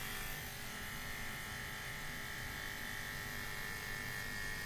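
Electric hair clippers fitted with a detachable guard buzz steadily and close during a taper fade haircut, a continuous even whir with no break and no talking.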